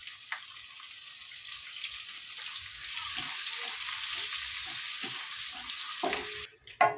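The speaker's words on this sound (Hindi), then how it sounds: "प्याज और करी पत्ता डालेंगे।" Onions and curry leaves fry in hot oil with a steady bright sizzle, stirred with a few soft clatters, close and continuous, ending in a brief clunk.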